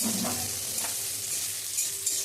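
Chopped garlic, ginger, onion and green chillies sizzle in hot oil, a steady near frying hiss with light stirring scrapes, no talk.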